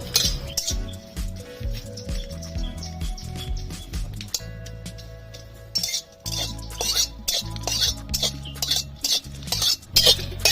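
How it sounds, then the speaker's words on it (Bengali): Dry red chillies roasting in a pan while a metal spoon stirs and scrapes them, producing clinking, rattling strokes in an irregular rhythm, close and fairly loud, without any voices. "শুকনো লঙ্কাটা কালচে করে ভেজে নেবো"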